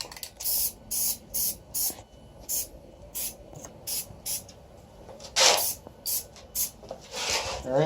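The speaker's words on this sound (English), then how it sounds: "remember you want to be aware of overspray, which is the cloud of paint" A spray can of paint hisses in a dozen short, evenly spaced bursts, close and fairly loud, followed by a longer spray and a few final puffs.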